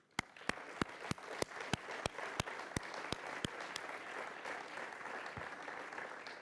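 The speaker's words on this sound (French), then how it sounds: "je vous demande donc d'applaudir les équipes du Centre spatial de Toulouse" Applause for the Toulouse space centre teams after a launch: a crowd claps in a soft, even wash, with a few sharp, evenly spaced single claps standing out near the front, all heard faintly and with no talking.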